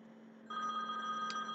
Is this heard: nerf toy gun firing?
no